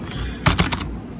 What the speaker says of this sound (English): If you're not the person who likes massively loud clicks, nice keyboard